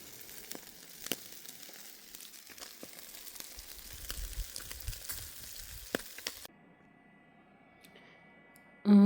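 Soft sizzling and crackling of marinated carp and pike frying in a pan with occasional sharp pops, then it cuts to a quieter, different background near the end.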